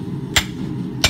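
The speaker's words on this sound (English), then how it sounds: "so I'm gonna go ahead and cut off the excess." Two sharp hammer blows on hot steel, about 0.7 s apart, cutting off excess stock while forging a stump anvil block in a blacksmith shop, each strike ringing briefly over a low background hum.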